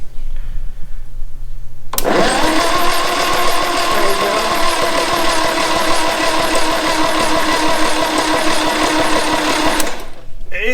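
An Austin-Healey Sprite engine, turned over after ten years in storage, runs with a loud, even, rapid mechanical chatter and hum that starts abruptly, holds steady for about eight seconds, then cuts off.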